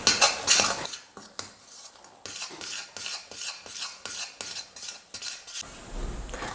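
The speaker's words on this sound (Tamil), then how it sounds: "கைவிடாமல் கலந்து கொடுத்துட்டே இருக்கலாம்" A thickening sweet mixture made from two ingredients is stirred continuously in a pan, with a spoon scraping and rasping against the metal in uneven repeated strokes, close and fairly loud, with no talking.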